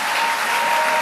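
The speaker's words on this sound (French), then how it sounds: "Acclame-moi un peu les mamans." A church audience gives the mothers a dense, loud round of applause that carries on steadily throughout, with no voices rising above the clapping.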